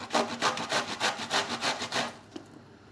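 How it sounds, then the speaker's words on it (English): Quarter of a cabbage grated by hand on a grater, about a dozen rhythmic rasping strokes close up that stop after two seconds, with no talking. "I have a quarter size of cabbage and I'm just going to grate it."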